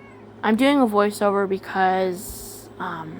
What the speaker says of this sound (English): Sorry if you hear my cat in the background as I'm doing this voiceover.